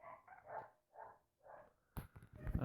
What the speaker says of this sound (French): le chien, si tu pouvais éviter de gueuler